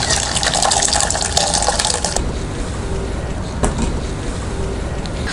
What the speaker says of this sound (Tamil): வேறு பாத்திரத்தில் மாற்றிக்கலாம்.